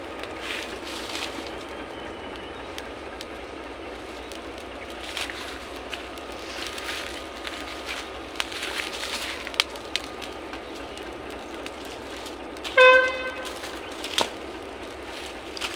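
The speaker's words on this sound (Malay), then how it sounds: "Ada bunyi kereta api sebelah sana." A low, steady rumble of a train passing at a distance, with faint rattles and a brief sharp tone near the end.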